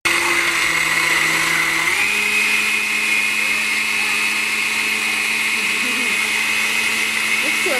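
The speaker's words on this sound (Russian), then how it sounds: "сейчас помыть все, обобрать хвостики и в блендере с сахаром" A kitchen blender purées washed strawberries with sugar, its loud, steady motor whine running close and continuous throughout, with a slight drop in pitch partway through.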